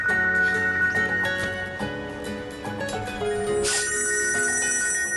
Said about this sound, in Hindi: अम्मी का फोन है